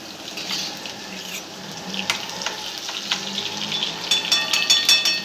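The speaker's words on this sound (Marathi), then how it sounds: "लसण अद्रक चांगला फ्राय होऊ द्यायचा" Garlic and ginger paste frying in a pan for a spiced eggplant-and-potato curry, a steady close sizzle with crackling spits and bursts that grow louder toward the end, with no talk.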